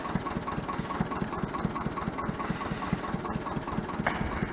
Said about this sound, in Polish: te tuje wyrwę po prostu traktorem